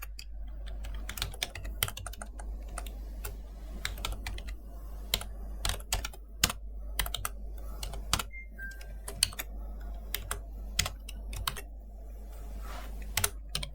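Typing on a computer keyboard while writing Python print statements, with quick irregular bursts of clicking keystrokes, close and fairly quiet, over a steady low hum, with no talking.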